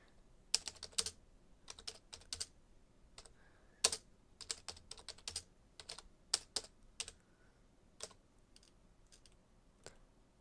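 Rapid bursts of keystrokes on a computer keyboard as a chat message is typed in Roblox, clicking in quick irregular clusters with short pauses between, close and fairly quiet with no voices.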